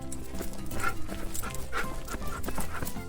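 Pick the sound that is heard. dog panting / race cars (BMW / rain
dog panting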